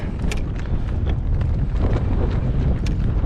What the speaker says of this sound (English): this wind is unbelievable